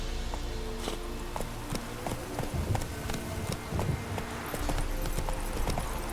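Hoofbeats of a horse galloping in The Witcher 3 pound in a quick, rolling rhythm of clip-clops, close and fairly loud, with no speech over them.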